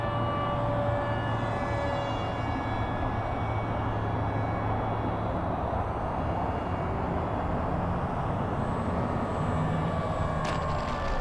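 An FMS Diamond Hobby P-40 Flying Tiger 980mm RC model airplane comes in to land with a setting of flaps, its electric motor a steady, continuous drone under wind noise, near and fairly loud throughout.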